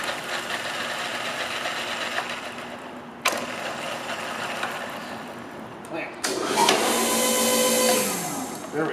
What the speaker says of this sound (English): Then we have the main spindle motor. See it spinning.